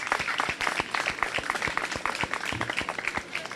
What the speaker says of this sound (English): Let's give each other a round of applause again.